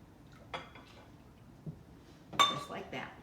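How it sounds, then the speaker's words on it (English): Popover batter of flour and milk being whisked in a bowl, heard as a few scattered metallic clinks and taps against the bowl, with a busier cluster of clinks near the end and a quiet kitchen background between them. "now I can switch over to a whisk"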